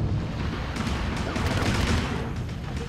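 Continuous rattling gunfire in a diving-themed shooter game, dense and steady for a few seconds at close range, with no clear gaps between shots.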